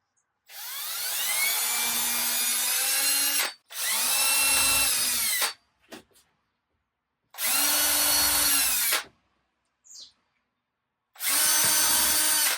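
A power drill drives screws into a wooden furring strip for a Sprinter camper van ceiling, four loud whirring bursts of a few seconds each, separated by silences and short clicks.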